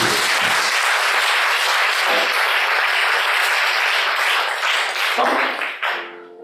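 A church congregation applauds and cheers loudly in a dense, steady wash of clapping that holds for about six seconds before abruptly cutting off.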